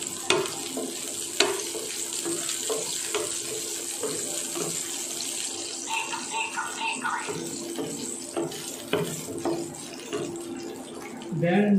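Dried red chili sizzles in a generous amount of hot oil at the start of an Odia fish-head curry, a steady close crackle with occasional utensil clinks.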